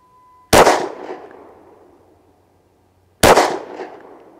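Two sharp, loud gunshots from a Smith & Wesson SD40VE .40 caliber double-action pistol fired outdoors at a target, each a hard crack followed by a long rolling echo, spaced about three seconds apart.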